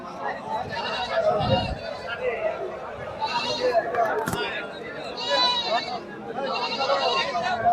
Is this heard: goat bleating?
yes